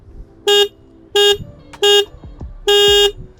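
A Bajaj Pulsar N160 motorcycle horn beeps four times, loud and close, in short bursts with the last held a little longer, over a low idling rumble.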